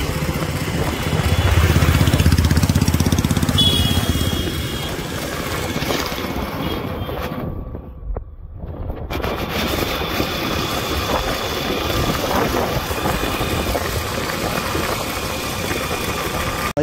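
A motorcycle rides along while pushing a Bajaj Pulsar 220F that has its exhaust removed, a steady engine drone running throughout with a brief dip midway before the rumble resumes at a constant level.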